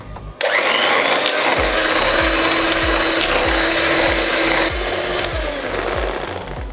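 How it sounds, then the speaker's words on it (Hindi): Electric hand beater whips a cup of whipping cream to stiff peaks, a loud steady motor whir that runs continuously for several seconds, with rhythmic low thumps of the beaters against the bowl. "चलिए अब हम केक बनाने के लिए क्रीम को भी बीट कर लेते हैं"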